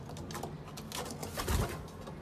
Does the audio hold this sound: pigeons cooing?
yes